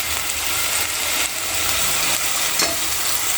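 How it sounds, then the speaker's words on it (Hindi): Chopped carrots fry in hot ghee while being stirred, a loud, steady sizzle close up with a few faint scraping touches and no voices. "अब घी तो गर्म हो चुका है, अब मैं इसमें ये जो चॉप करी हुई गाजर है धीरे धीरे डाल दूंगी और इसको फिर थोड़ा सा भूनना है"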